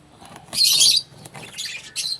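African lovebirds, one of them yellow, give sharp squawking chirps in a loud close burst, followed by softer scattered chirps and another short squawk, with faint wing rustling between them.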